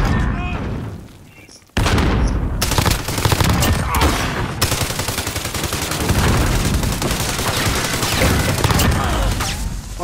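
A Bizon submachine gun with an 84-round magazine rattles off long, rapid bursts in a video game Search and Destroy match. The firing starts after a brief lull, loud and close, with booms and thuds mixed in.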